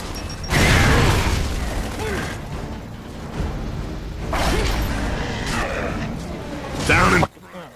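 A frag grenade detonates during a firefight in the shooter game Gears of War 3. Two loud, booming blasts arrive a few seconds apart amid gunfire and mechanical clatter, with character voices shouting over the combat.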